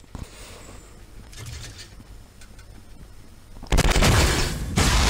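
A loud explosion in the video game Fortnite, with high explosives in play: a quieter rumbling stretch with scattered clicks gives way to a sudden heavy boom that roars for about a second, then another burst follows.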